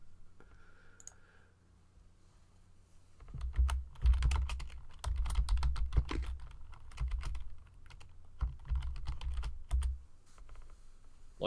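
Rapid clattering keystrokes on a computer keyboard during a live online card-game broadcast, starting softly then growing into dense, loud bursts of clicks with brief pauses, close to the microphone and without talk.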